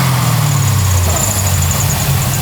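Tuned Mazda RX7 engine running steadily up close, a loud low droning idle with a rough pulsing rumble and no talk over it.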